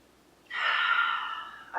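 A single deep inhale through the nose, a close, breathy hiss lasting over a second, followed by the start of another breath, with no talking.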